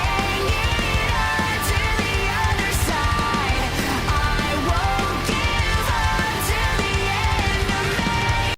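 Dense, driving modern Sonic boss-fight music plays at steady full loudness throughout, with layered synths, guitars and drums and periodic crash hits, no voices present.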